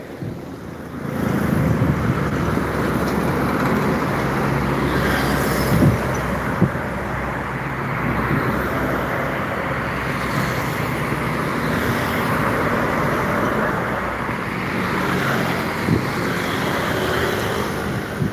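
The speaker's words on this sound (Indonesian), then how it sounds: "saya hunting di Jalan Lintas Timur Palembang tentang bus dan truk yang masuk" Buses and trucks roll along the Jalan Lintas Timur highway in Palembang, making a steady, unbroken roadway roar with wind buffeting the microphone throughout and no clear gaps between vehicles.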